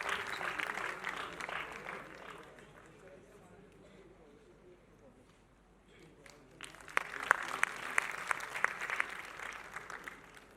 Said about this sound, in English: A huge round of applause once again for the Rustamji group